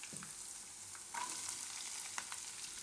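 Raw banana pieces fry in a pan for sabudana khichdi, a soft, even sizzling hiss that swells slightly after about a second, with faint stirring ticks, quiet and steady with no voices.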